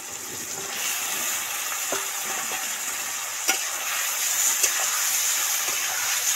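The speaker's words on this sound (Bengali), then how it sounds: "এবার এই বড় বড় যে আলুগুলো কেটেছিলাম এই তেলের মধ্যে উঠিয়ে দেব" Large cut potato chunks frying in hot oil in a pan with softened tomatoes and onions for katla fish curry, a steady hiss of sizzling with occasional sharp pops and stirring clicks, close and alone.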